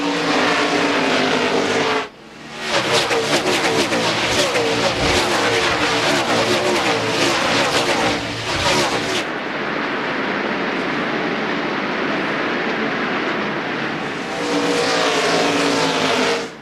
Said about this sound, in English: Marlin up to 2nd and Ward up to 6th as we go back racing.